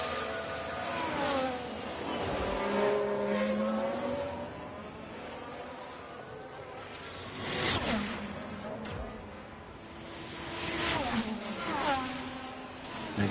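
A Ferrari Formula 1 car in the F1 Manager 24 racing game sweeps past with a rising then falling engine whine, with several more passes following, mixed under a voice talking.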